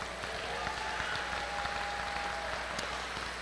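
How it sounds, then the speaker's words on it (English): A graduation audience at the Eastpointe High School 2023 ceremony claps steadily, a broad wash of applause that holds at an even level the whole time. "Give yourselves a round of applause."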